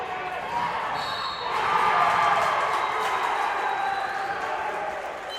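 A gym crowd at a high school wrestling district duals meet roars for a pin on a neighbouring mat, the broad murmur swelling and then holding at a steady, distant-sounding level.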